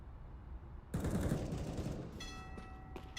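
Rapid gunfire from a video game match, a sustained burst of bullets that begins suddenly and carries on as a dense spray, with fainter shots trailing after.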